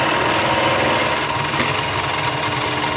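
A belt-drive mini mill takes a ten-thousandths cut on a metal workpiece, giving a steady, dense mechanical whir and grinding hum at close range, unbroken for a few seconds with no voices.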